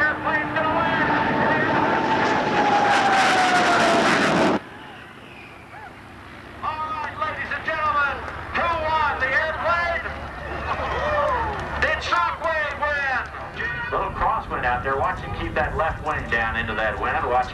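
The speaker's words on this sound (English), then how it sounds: "The airplane's going to land." A tailwheel airplane lands at the 1994 Confederate Air Force air show in Midland, Texas. A loud engine roar holds for a few seconds and then cuts off, followed by an announcer speaking over outdoor crowd noise.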